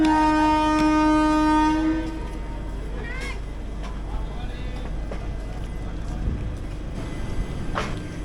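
The Sabari Express sounds a long, loud horn as it departs, followed by rumbling and clanking of the rail cars, with a voice talking briefly near the start.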